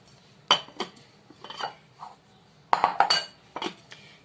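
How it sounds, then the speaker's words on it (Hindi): Bowl of pakora batter being covered with a lid, several sharp metallic clanks and clinks in an irregular sequence, close and fairly loud, with quiet gaps between. "ये अब मैं इसको ढक कर रख रही हूँ"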